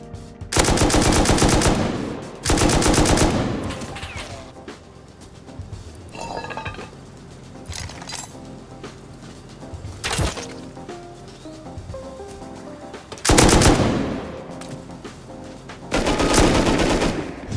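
Bursts of automatic gunfire in a video game, several loud rapid-fire volleys from an M2 spaced across the stretch with quieter clatter and scattered single shots between them.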